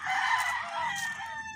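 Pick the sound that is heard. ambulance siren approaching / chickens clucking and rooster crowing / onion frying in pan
chickens clucking and rooster crowing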